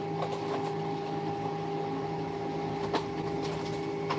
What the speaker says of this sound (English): Will Wakely, you have some background noise, a humming. Yeah, that's my printer that just stopped